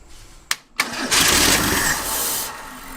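A Ford Durango revived after sitting nine years gives two sharp cranking bursts, then catches and runs loud and rough for a couple of seconds before easing down.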